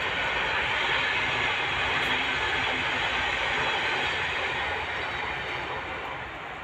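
A stopping passenger train rumbles steadily with a broad roaring rush at a railway station, fairly loud and close, slowly fading toward the end.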